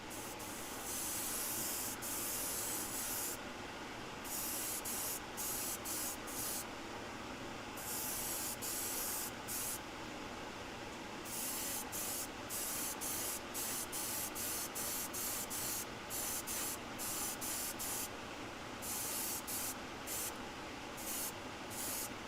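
An airbrush sprays Vallejo metallic paint in short, repeated bursts of soft hissing with brief pauses between them, fairly quiet and close.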